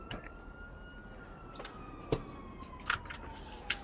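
Fire engine siren in GTA V wailing faintly in the background, a thin steady tone slowly falling in pitch, with a few sharp game clicks and knocks on top and no speech.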